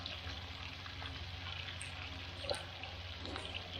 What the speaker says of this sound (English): that old squash is cooking up nicely